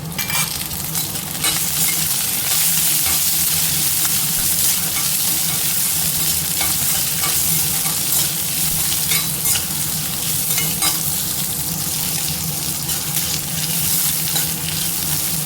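Small onions sautéing in a hot pan for a banana-stem chutney, a continuous close sizzle with steady stirring and occasional spatula scrapes, loud and uninterrupted for the whole stretch, no voices.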